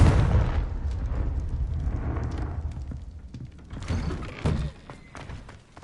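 A Confringo blasting spell from a Harry Potter video game erupts in a heavy booming explosion, followed by rumbling debris and a few scattered thuds that fade out.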